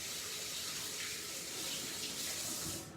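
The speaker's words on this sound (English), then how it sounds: "I'm also gonna wash my hand off." Hands rinsed under a running kitchen tap while making latkes, a steady close hiss of flowing water that fills the whole moment without pause and trails off at the end.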